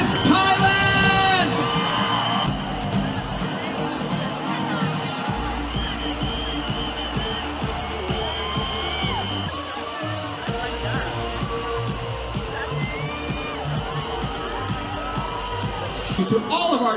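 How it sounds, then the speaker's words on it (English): Pageant crowd cheering, whooping and applauding for the first runner-up, a dense sustained roar of many voices with yells and clapping throughout, music and an announcer's voice faintly underneath. "can we please give a round of applause for our first runner-up"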